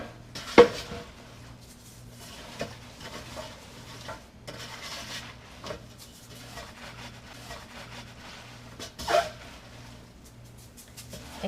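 Kimchi ingredients being mixed by hand in a metal pot: soft wet squelching and stirring with a few sharp metallic clanks against the pot, near and moderately quiet, with a low steady hum underneath.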